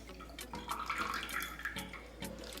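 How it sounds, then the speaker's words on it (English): Pineapple juice poured from a can into teriyaki sauce makes a steady liquid splashing and trickling for a few seconds, close up with small bumps, no talk. "pour all of the pineapple juice from the can into our teriyaki sauce"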